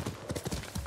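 A horse's hooves clip-clop in the Ghost of Tsushima video game, a quick run of close, distinct hoofbeats in a brief burst.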